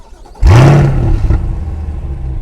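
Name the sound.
Chevrolet Corvette C8 Z51 engine remote cold start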